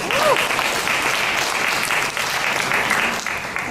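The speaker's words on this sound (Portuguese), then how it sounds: "Salve de palmas para o pastor aí" A church congregation at a Bible institute class in Natal claps for the pastor: loud, dense applause sustained across the whole stretch, with a brief vocal sound near the start.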